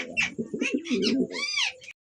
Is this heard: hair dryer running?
no